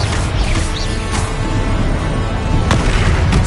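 Spell combat in the Hogwarts Legacy video game, with a Confringo explosion spell landing amid dense continuous battle noise, a sharp blast standing out near the end over a loud, busy mix.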